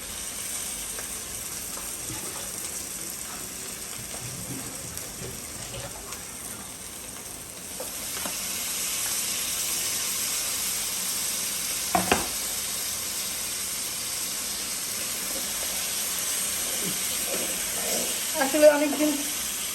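Potatoes and meat frying in a pan in a village kitchen give a steady sizzle that rises partway through, with a few brief clinks of stirring, moderately close.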